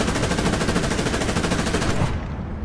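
Tank weapon fire in War Thunder, heard as a dense, continuous stream of rapid, evenly spaced blasts, loud and close, ending abruptly after about two seconds with a short fading tail.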